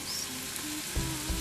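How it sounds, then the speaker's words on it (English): Eggplant pieces sauté in a pan with a steady, close hiss of frying, a couple of soft thumps near the end, and faint music running underneath. "we're just letting these saute here, and we'll stirring them occasionally."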